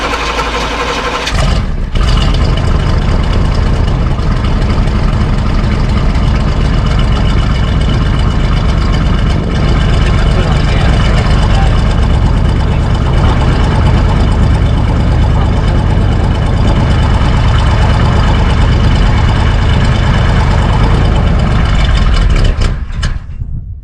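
A 1973 GMC truck engine idles loudly and steadily after a cold start, a continuous close rumble with a sputtering catch at the very beginning and dying away at the end, with no voices over it.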